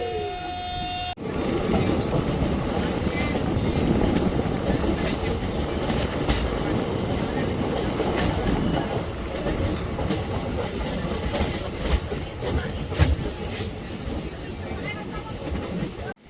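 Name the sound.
passenger train running on rails, Dharwad to Solapur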